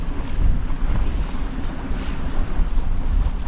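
Wind rushes over a sailboat heading into Mahone Bay, a loud, steady buffeting roar with low gusty rumble and faint water wash beneath, no voices.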